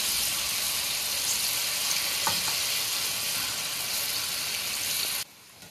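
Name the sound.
besan batter frying in hot oil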